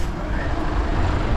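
Trucks pass on a road in Shanghai west of the Huangpu River, producing a loud, steady rumble of engines and roadway noise close by.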